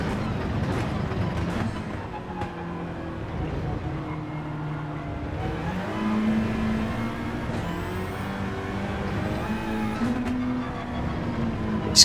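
Race car engine in Gran Turismo 7 during a practice lap on hard tyres, a steady loud drone rising and falling through gear changes, with someone talking over it.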